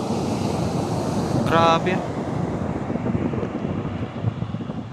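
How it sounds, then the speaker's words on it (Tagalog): Strong ocean waves break on a shore along a north Luzon loop road, a loud continuous roar of surf mixed with heavy wind buffeting the microphone. A voice briefly exclaims partway through. "Pero yung alon ang lakas. Parang pang surf talaga."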